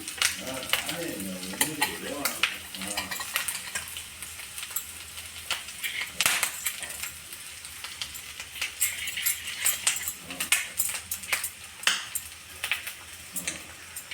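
Melted jaggery mixture stirred in a pan, with scraping spoon strokes and light metallic clinks over a soft sizzle, irregular and fairly quiet, with faint talk at times.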